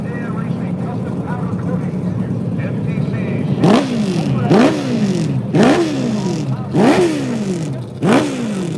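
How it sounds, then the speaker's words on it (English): A top fuel nitro drag motorcycle fires up at a drag strip in Freemansburg, PA, then blasts out a string of sharp, loud revs that rise and fall in about five bursts over a steady idle. "more top fuel nitros coming up. All right, firing up here."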